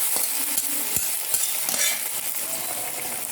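Tempered coconut seasoning sizzles as it goes into a beef curry, a steady close crackle of frying with a few soft stirring knocks and scrapes.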